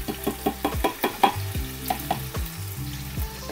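Red onion frying in groundnut oil in a pan, with meat being added: a steady close sizzle broken by a series of sharp, spitting crackles and stirring knocks, loudest in the first second and a half, with no talking.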